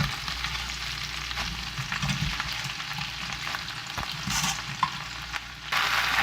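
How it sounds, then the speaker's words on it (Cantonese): Potherb mustard greens hit a hot wok and are stir-fried over high heat, a steady, dense sizzle with scraping stirs and bursts of crackling throughout, no talking. "咁我就擺啲菜落去啦，炒菜啦，一路用住大火。"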